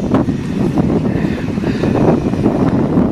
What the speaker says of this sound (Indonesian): Ini anginnya lumayan kencang